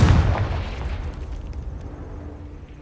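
A Confringo fire spell explodes in the video game Hogwarts Legacy: one sudden loud boom at the start that rumbles and fades away over a couple of seconds.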